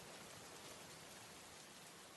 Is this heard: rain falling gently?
yes